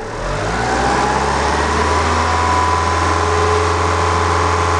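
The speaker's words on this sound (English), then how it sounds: "I'm going to rev the engine and then turn the propane on." A Kia Sportage engine revs and then holds at a steady elevated speed during an oxygen storage test on a repaired exhaust, loud and close with a constant droning hum.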